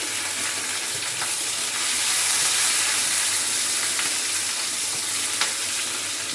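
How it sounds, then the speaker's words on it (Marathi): Dal (varan) simmers in a pot on a low gas flame, making a soft, continuous bubbling hiss close by, with a few faint clicks over the steady sound. "इथं बारीक गॅस आपलं हे वरण उकळत आहे"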